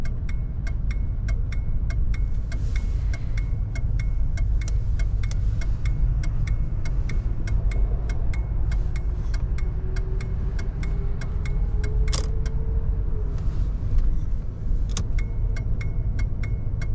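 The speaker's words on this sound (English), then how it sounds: "Can hear the indicator working there on the dash." Turn signal indicator on the dash of a 1983 Lincoln Continental MK VI ticks in a steady, evenly spaced rhythm over a constant low engine and road hum while the car makes a left turn.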